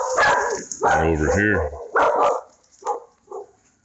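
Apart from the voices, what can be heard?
dog barking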